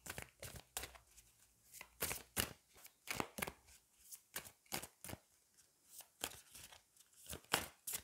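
Oracle cards from the Magic of You deck riffle and snap in a run of sharp, papery bursts, close and fairly loud, with short pauses between shuffles and no talking.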